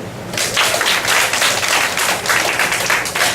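Loud, close clapping from women in the audience at a lounge grand opening during a poetry performance, dense and uneven bursts of hands filling the whole stretch.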